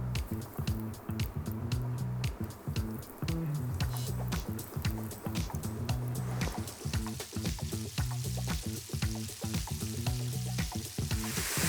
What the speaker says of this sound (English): You want to cook the beef 3 or 4 minutes or until you've got a really crispy, slightly golden outside.